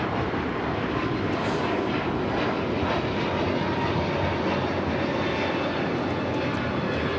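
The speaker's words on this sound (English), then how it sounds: "This is Hawaiian Airlines Flight 61 taking off to Kailua Kona on the A321neo" A Hawaiian Airlines Airbus A321neo takes off from LAX bound for Kailua Kona, its engines a steady, broad roar that holds loud and continuous throughout, with no voices.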